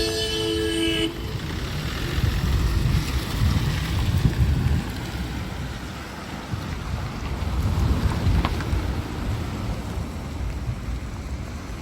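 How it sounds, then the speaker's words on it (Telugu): Steady rain pours down outdoors while low thunder rumbles in the background, the downpour swelling and easing in a continuous wash at moderate loudness, with no voices. "తొందర వర్షం పడుతుంది"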